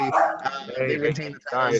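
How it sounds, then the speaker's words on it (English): Dogs barking in the background under someone talking about wrestling results, short yapping barks mixed in with the speech. "Sorry about the dogs."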